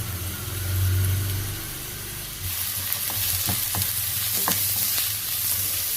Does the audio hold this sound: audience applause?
no